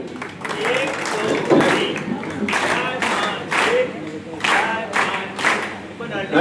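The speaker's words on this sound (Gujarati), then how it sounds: "હા, આપણે આગળ આપણે તાળીઓ તો પાડીશું." An audience claps at a laughter club get-together function, with uneven bursts of applause in a room while people talk over it.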